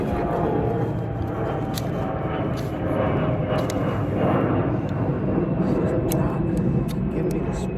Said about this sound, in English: Hey, that plane.